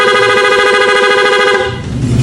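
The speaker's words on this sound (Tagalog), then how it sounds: "Ito yung loud horn. Pag diniinan, rapid." A loud, brassy aftermarket horn on a Honda Click V3 scooter blares in one sustained blast for most of the clip, then drops away into low background rumble.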